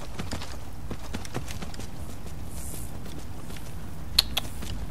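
A horse walks through a Skyrim game town, its hooves clip-clopping in a steady, moderately paced rhythm over a low ambient bed, with no talking.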